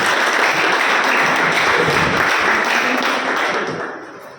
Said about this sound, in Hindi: एक बार हम जोरदार तालियों से उनका धन्यवाद करें।